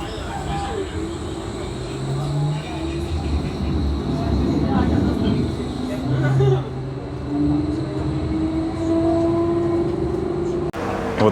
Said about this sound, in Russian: этот поезд или трамвай, которым мы сейчас воспользуемся